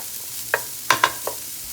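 Garlic sizzles in a hot pan for pea soup, a soft frying hiss broken by a few sharp clicks and scrapes of a utensil stirring, close up with no voices.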